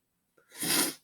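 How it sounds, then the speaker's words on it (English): A single sharp human sneeze, preceded by a brief faint intake of breath, then a loud close burst of air lasting under half a second. "I'm terribly sorry to have recorded me sneezing."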